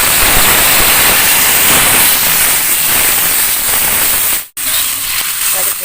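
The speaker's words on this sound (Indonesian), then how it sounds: "Minyaknya sudah panas, kita masukkan ya bumbu." Ground spice paste of candlenut, shallot, garlic, ginger, turmeric and chili hits hot oil in a pan and sizzles loudly, a dense crackling hiss that dips briefly near the end before carrying on.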